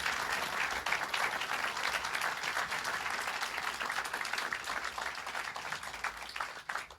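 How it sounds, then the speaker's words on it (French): Sustained audience applause rolls through a comedy show, with many hands clapping in a dense, lively burst that stays strong and then tapers slightly near the end. "J'aimerais qu'on applaudisse Aboubacar Cissé, s'il vous plaît"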